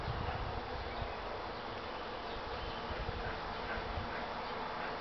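Honey bees buzz steadily while foraging on flowers, a dense, continuous hum of many insects close by, with no talking.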